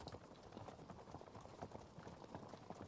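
Horses in the strategy game Field of Glory: Empires move with a continuous, quiet clip-clop of many hooves under a dense, steady background wash.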